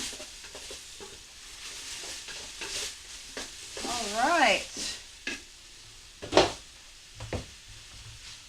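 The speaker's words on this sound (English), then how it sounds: "We're going to saute those up with the rest of this." Vegetables sizzle and get stirred in a pot, with scraping and clattering of a utensil; a person speaks briefly.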